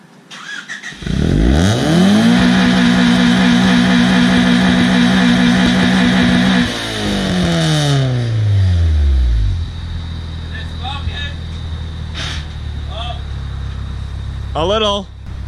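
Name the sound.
truck engine revving while warming up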